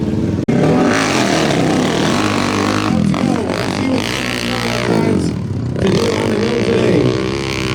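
Off-road motorcycle at a hill climb competition on an open-knobby class track at Brick Mine, its engine roaring loud and continuous with revving swells after a brief dropout near the start.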